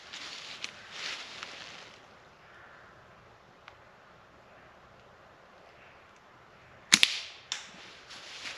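An arrow loosed from a bow during a woodland stealth camp, giving a sharp close snap and thwack followed by a second, softer impact, set against faint wind and outdoor hiss with no talking.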